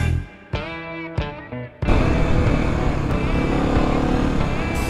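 A Kawasaki KLX 250 dual sport motorcycle on single track: the engine idles with two short throttle blips, then opens up into a loud, steady, close engine drone that holds to the end.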